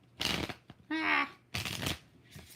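Tarot cards are shuffled in quick riffling bursts, three or four close, crisp flurries with brief pauses and one short vocal sound between them.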